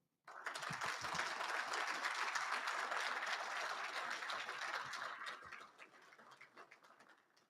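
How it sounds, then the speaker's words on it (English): A crowd at a Wounded Warrior leadership awards ceremony bursts into applause after a short silence, a full, sustained round of many hands that holds steady for several seconds before thinning into scattered claps. "Please join me in a round of applause for all of our awardees."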